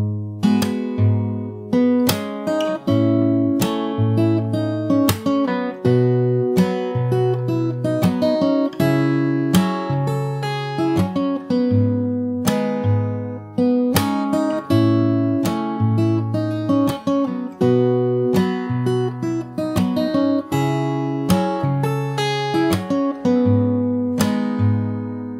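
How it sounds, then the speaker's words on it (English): Fingerstyle acoustic guitar plays the pre-chorus of a song at a slow tempo: steady plucked bass notes under chords and melody, played alone and continuously for about 25 seconds. "So I'll play the whole pre-chorus once really slow."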